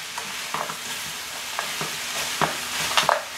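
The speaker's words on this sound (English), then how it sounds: "Now I'm going to go ahead and add my broccoli in there. And let that get cooked up nicely." Broccoli added to cooked chicken sizzles and crackles in a frying pan for chicken teriyaki, with stirring scrapes and steady close frying hiss throughout.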